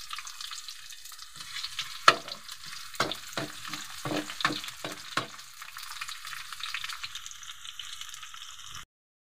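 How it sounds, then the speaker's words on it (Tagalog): Garlic and onion sauté in a pan for home-style adobong sitaw, a light sizzle broken by a series of sharp scraping stirs and clinks before it cuts off. "nagigisa tayo ng bawang"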